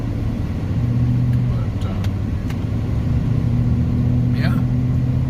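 Road traffic rolls past in a steady rumble of engines and tyres, a continuous mid-distance wash with occasional passing vehicles, while a person talks over it.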